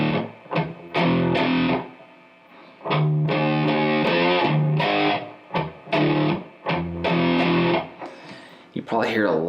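The main riff played slowly on a distorted electric guitar, chunky three-chord power-chord stabs with pauses and pick scrapes between, loud and close with no talking.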